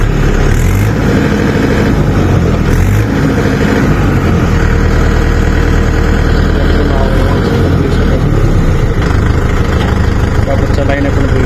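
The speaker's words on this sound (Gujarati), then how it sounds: "ટ્રેક્ટરનો અવાજ આવે" A Mahindra tractor engine running close by, its steady low rumble loud and continuous throughout, with someone talking over it.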